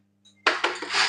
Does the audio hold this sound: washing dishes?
yes